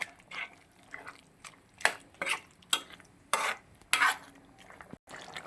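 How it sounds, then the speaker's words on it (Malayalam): Okra curry with coconut milk stirred in a pan, heard as a series of soft scraping and sloshing strokes with an uneven rhythm, close but fairly quiet, no speech. "നന്നായിട്ട് ഇളക്കി കൊടുത്ത്."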